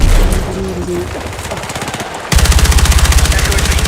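Rapid automatic gunfire from a gun in Battlefield 6, loud and close, with a steady rattling burst taking over after an earlier stretch of mixed shots and game noise.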